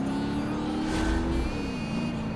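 A supercar in BeamNG Drive accelerating at full throttle, a loud continuous engine drone with a rising tone that dips as it shifts, close and steady throughout.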